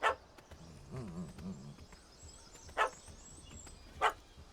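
A puppy in The Witcher 3: Wild Hunt – Hearts of Stone gives three sharp, spaced barks, with a soft whiny yelp between them, over quiet ambience.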